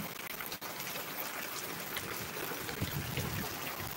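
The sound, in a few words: heavy rain falling in Chittagong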